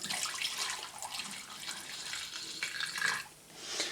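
Liquid pours into a spray foam sanitiser bottle in a steady, soft trickling splash lasting a few seconds, faint and close with no talking.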